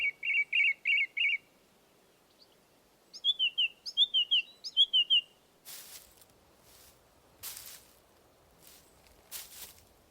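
A thrush sings clear, repeated whistled phrases in short bursts, followed by a few soft rustling thumps like footsteps in a quiet setting.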